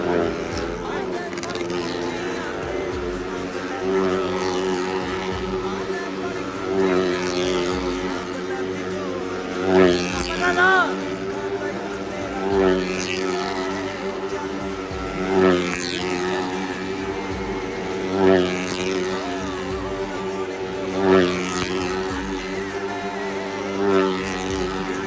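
Motorcycle engines rev in rising and falling cycles, loud and steady, as stunt riders circle in a Lucky Irani Circus show at a fair, with people talking over the engine noise.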